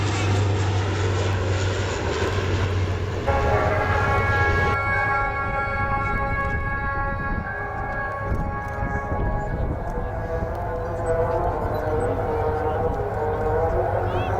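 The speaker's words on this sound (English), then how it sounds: "This is another of these aircraft that are capable of carrying and looking after and treating casualties." A military casualty evacuation aircraft passes at an air show, a loud steady engine roar with a rising whine and tonal harmonics that shift as it moves overhead, while a commentator talks over it.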